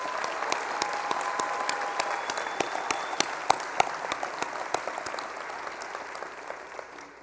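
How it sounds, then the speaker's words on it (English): A crowd at the 2018 University of North Dakota School of Law commencement applauds the graduates, thick clapping with sharp individual claps standing out, tapering slightly toward the end. "Let's give our graduates one more round of applause."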